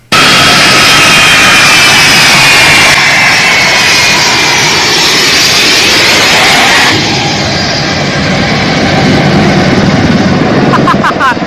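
A U.S. military transport jet takes off from Kabul airport, its engines making a loud, steady, roaring whine that persists throughout, with faint voices underneath.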